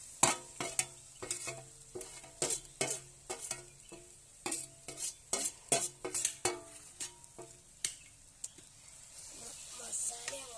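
Masala being stirred into a homemade chicken curry in a hot pan, with a spoon scraping and clicking against the metal in a steady series of short strokes over a soft sizzle.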